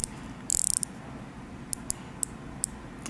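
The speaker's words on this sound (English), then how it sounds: "Also rotating bezel, unidirectional rotating bezel on this." The unidirectional rotating bezel of a Squale 1545 20 Atmos dive watch is turned up close, giving a quick burst of sharp ratcheting clicks, then four spaced single clicks in otherwise quiet surroundings.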